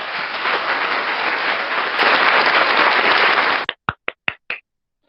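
A round of applause at an online virtual forum on ICT and internet policy, dense and steady for several seconds, then breaking off into a few last scattered claps.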